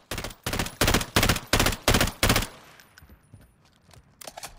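FAMAS burst fire in Call of Duty Modern Warfare III: seven loud, evenly spaced shots cracking in quick succession, then trailing off into faint echoes and scattered distant pops.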